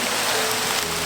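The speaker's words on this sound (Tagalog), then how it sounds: "Sobrang lakas ng ulan." Heavy downpour in the open, a dense continuous hiss of rain falling hard on surfaces, loud and steady throughout the brief moment.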